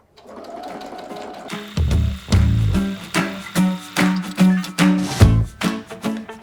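A sewing machine stitches a straight quilting line through fusible foam, running in a steady series of near, fairly loud bursts of rapid needle strokes after a quiet start.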